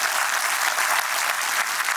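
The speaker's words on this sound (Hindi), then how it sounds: "ताली बजाइए।" A dense burst of audience applause at a book launch event, loud and even, filling the whole short stretch without talk.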